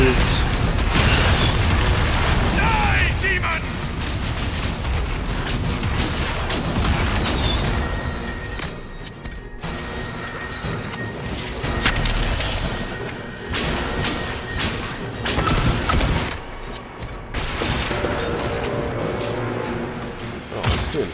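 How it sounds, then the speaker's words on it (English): Bombs drop and explode in the Dragon Age Inquisition game, a dense rumbling barrage of booms and crashes, loudest at the start, with game voices and effects mixed in over heavy low-end roar. "start dropping the bombs"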